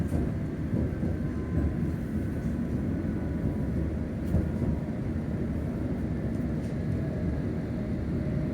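A London Underground Metropolitan line train runs between stations toward Aldgate, giving a continuous loud low rumble with steady rolling noise and no announcements or talk.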